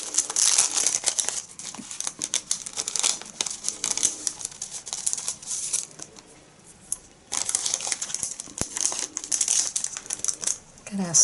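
Crisp crinkling and rustling of a vellum paper doily being handled at a crafting table during card making, near and fairly steady with short pauses, with a quiet stretch midway.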